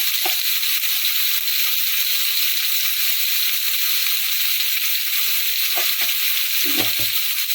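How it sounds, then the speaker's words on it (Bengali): Spices and turmeric frying in oil for masala eggplant give a loud, even sizzle up close. Several stirring scrapes and knocks break through, the busiest near the end, with no voices. "নেড়ে একটু ভাজা ভাজা করে নেব"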